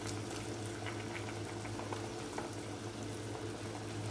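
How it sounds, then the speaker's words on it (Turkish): A pot of okra soup simmers on the stove as okra pods are lowered in one by one, giving a quiet, continuous bubbling with soft liquid burbles throughout and no speech. "Şimdi artık bamyaları içine atıyorum."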